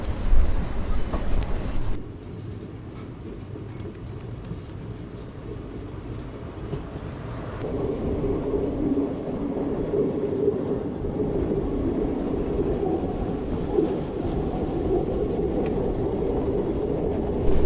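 A train on the Bhimavaram to Nagarsol line rolls along the rails with a continuous low rumble and faint clatter that swells slightly as it gathers speed.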